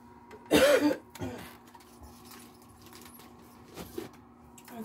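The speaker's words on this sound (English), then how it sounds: "I got a cough. I need some water." A single sharp, loud cough from a person, followed by quieter throat sounds and faint rustling in an otherwise quiet room.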